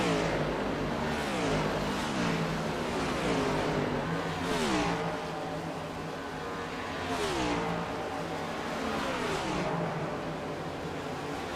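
Race cars in an iRacing CTC Cup Series playoff at Las Vegas roar past a lapped car, engines loud and close with repeated pitch sweeps as several cars rev and pass in quick succession.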